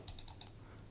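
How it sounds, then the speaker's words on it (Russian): Rapid keystrokes on a mechanical computer keyboard, a short burst of four or five crisp clicks close to a condenser desk microphone, then quiet, with no voices. "У меня клавиатура механическая, поэтому ее достаточно хорошо слышно"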